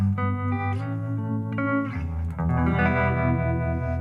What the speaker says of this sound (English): let's just stick a stereo chorus on the lows